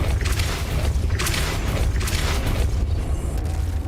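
Depulso spell effects in the Hogwarts Legacy video game sound as a run of whooshing bursts and booming pushes, loud and close over a continuous rumbling game background.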